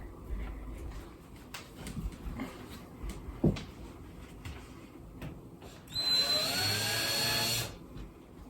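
Power drill boring a pilot hole, a single loud whirring burst of about two seconds close by, after scattered handling knocks and clicks.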